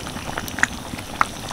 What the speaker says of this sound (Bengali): আলুগুলো দেওয়ার পরে আরও 2 মিনিট ফুটিয়ে নিয়েছি